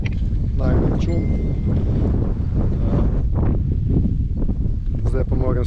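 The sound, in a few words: strong wind blowing on the microphone while sailing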